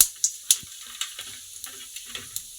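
Oil tempering for tomato chutney, with mustard seeds, urad dal and cumin crackling in hot oil, gives a steady sizzle with sharp popping ticks and the scrape of a stirring spoon.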